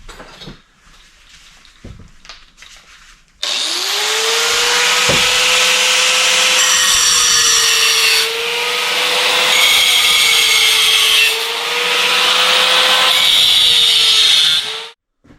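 A power tool spins up a wheel against the bare wheel hub of a 1983 Yamaha IT 175 motorcycle, giving a loud, continuous grinding whir with slight pitch swells that runs steadily for about ten seconds before cutting off.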